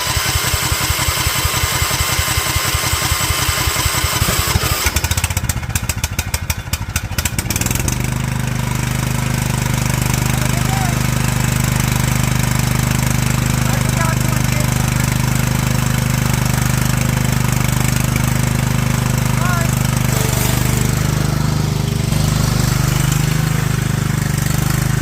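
A John Deere L110 lawn tractor engine on full choke cranks with a rapid rhythmic starter churn for several seconds, then catches and settles into a loud, steady, close idle that drones on.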